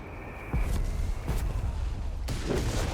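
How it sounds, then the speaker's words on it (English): Mortar fire in Company of Heroes 3 battle, with deep booms and thuds arriving in several bursts at moderate loudness amid ongoing combat noise. "Mortars going at it."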